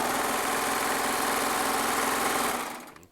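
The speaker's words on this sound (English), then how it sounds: "As I'm sewing on the" A serger sewing machine runs at a fast, even mechanical chatter, close and loud, then winds down and stops near the end.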